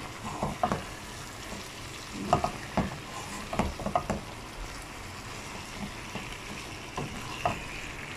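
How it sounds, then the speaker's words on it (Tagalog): Chicken frying in a pan for chicken ampalaya, with a steady sizzle running throughout and scattered utensil scrapes and knocks against the pan, close by and moderately loud, with no voices. "Lutuin lang natin yung chicken."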